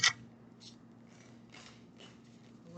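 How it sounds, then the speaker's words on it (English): Oracle cards being shuffled by hand: soft papery riffles and slides come in several short bursts, with a sharper snap at the start and a louder knock at the end, close and quiet. "I'll shuffle and pull those now."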